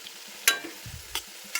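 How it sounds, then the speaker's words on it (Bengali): Vegetables frying one piece at a time in a pan, with short bursts of stirring and sizzle at a few spaced moments over a quiet background, close and fairly faint, with no talking. "এক একটা সবজি ভাজবো আর তুলে নেবো।"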